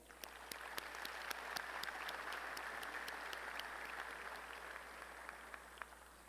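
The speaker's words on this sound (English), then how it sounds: "Please give our members of the Lamar University Leadership Group your applause" Sustained applause from a commencement audience at a university engineering graduation, steady dense clapping filling the hall throughout with no voices over it.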